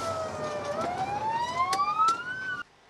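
A fire engine's siren wails on a city street with a steady rising tone over traffic noise, then cuts off abruptly near the end.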